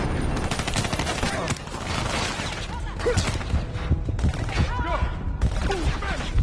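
Gunfire and explosions from the video game Call of Duty 2K, with dense, sustained bursts of shooting and blasts filling the scene, while game voices shout commands over the constant roar of battle.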